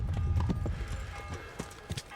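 Horse hooves clip-clop in the video game Kingdom Come: Deliverance, a run of close, uneven hoofbeats over a low rumble that gradually thins out toward the end.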